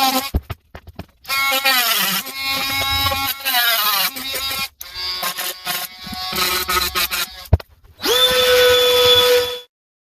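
A power tool cuts a track piece, whining in several loud, close bursts with short silent gaps and a final sustained run before stopping.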